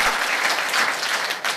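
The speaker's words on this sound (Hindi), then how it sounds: "ताली जोरदार वाली बजाइए" An audience at a business motivational seminar claps loudly and continuously, a thick, even wash of applause with no voices on top.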